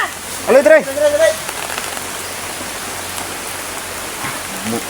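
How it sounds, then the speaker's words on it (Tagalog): Steady, dense hiss of heavy rain pouring down throughout, with a brief voice near the start. "Bumuhos na naman yung malakas na ulan mga tolo."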